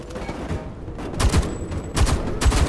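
Gunfire in the video game Homefront The Revolution, with a few loud bursts at uneven intervals standing out over continuous battle noise.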